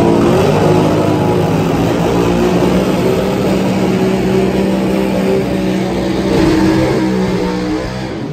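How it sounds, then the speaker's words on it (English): Pro Stock motorcycles doing long burnouts at an IHRA vs NHRA drag race, a loud continuous roaring engine blare with rough crackling texture that stays intense throughout and eases slightly near the end. "Big, long burnouts there."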